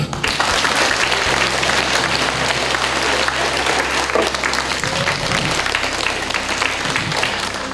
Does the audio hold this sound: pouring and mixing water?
no